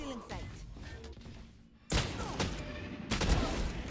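Video game gunshots crack in loud, sharp bursts, one after a brief lull and another a second later, over steady game ambience with a voice talking beneath.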